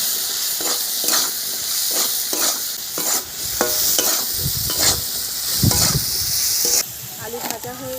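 Potatoes fry in a pan seasoned with turmeric and salt, giving a steady close sizzle with repeated scraping stirs in an uneven rhythm and a few brief clinks near the end.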